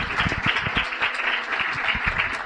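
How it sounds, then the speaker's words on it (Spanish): An audience applauds a speaker at a talk, a dense, even wash of many hands clapping that holds steady throughout at moderate loudness, with no voices over it. "Les pido por favor un aplauso"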